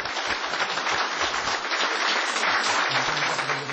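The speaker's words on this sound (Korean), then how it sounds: "박수로 맞이해 주십시오." A studio audience at a Korean presidential candidate debate applauds steadily and loudly, a dense wash of clapping that holds at an even level from start to finish.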